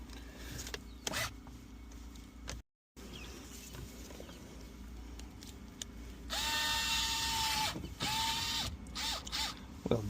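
A tool works at screws on a Honda Civic ignition barrel housing, giving close ratcheting, whirring and clicking bursts. A louder stretch of drill-like whine follows, with scattered handling noises throughout.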